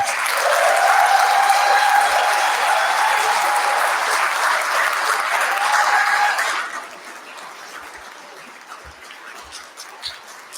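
An audience at an awards evening claps loudly to welcome an award recipient to the stage, with dense sustained applause for about six seconds before it fades to a few scattered claps and quiet room noise.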